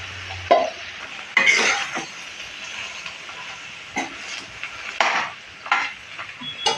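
Ground masala and vegetables being stirred in a metal pot for a Bhogi mixed-vegetable dish, a spoon scraping and clanking against the pot in irregular close strokes over a faint sizzle.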